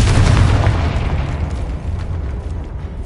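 A loud Confringo fire spell explosion from a video game erupts at once as a heavy, roaring blast that slowly fades into a rumbling tail.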